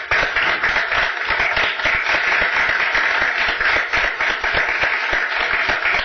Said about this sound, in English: So we're going to give you a round of applause.